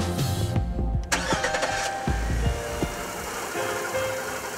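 A Mercury MerCruiser petrol boat engine cranks and fires, then settles into a gravelly but fairly soft idle close by.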